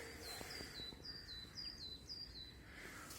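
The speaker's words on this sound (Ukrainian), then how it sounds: "чи так пташки гарно співають" A bird sings a repeated series of thin, high whistled notes in a quick rhythm, faint and somewhat distant against soft outdoor background noise in an empty park.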